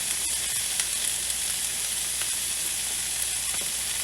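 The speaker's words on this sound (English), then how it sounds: "we're just trying to sear the meat or sear the top of the skin on the chicken" Chicken seasoned with garlic powder sears in a hot pan for a Cajun chicken Alfredo, giving a steady, close, even sizzle and crackle of frying that runs unbroken throughout with no talking.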